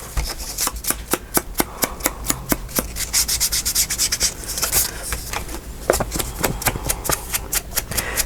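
Paper edges being distressed for a papercraft scene, a dry, steady scraping and rubbing with quick repeated strokes at close range that keeps up throughout.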